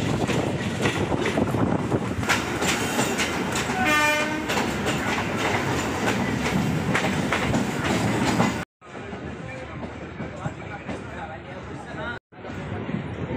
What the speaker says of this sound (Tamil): காய்ஸ் இப்போ நம்ம பேசன் பிரிட்ஜ் ஜங்ஷனுக்குள்ளே என்டர் ஆகிட்டோம்.